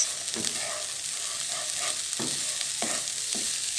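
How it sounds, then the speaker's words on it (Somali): Chopped onions sizzle in a pot while a spoon stirs them, a steady frying hiss broken by several scraping strokes, close and with no talk. "waa kanaa basashii aan soo jarjaray aan ku darsaday"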